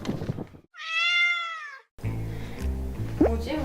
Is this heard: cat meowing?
yes